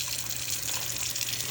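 Hot water trickles from a faucet into a kitchen sink above a garbage disposal, a steady close hiss of running water with no voices.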